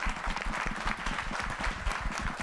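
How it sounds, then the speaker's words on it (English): Steady applause from an audience at a legislative breakfast honouring legislators, dense continuous clapping filling the room at an even level for the whole stretch, with no voices rising above it. "a big round of applause for our legislators"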